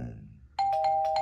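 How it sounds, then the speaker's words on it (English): A doorbell chimes a few times in quick succession, loud and clear indoors, right after a quieter stretch of low background noise. "Why is the doorbell ringing?"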